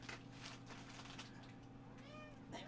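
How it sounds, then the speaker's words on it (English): A pet cat meows faintly a couple of times near the end, under a low steady hum. "he's a very vocal cat at times"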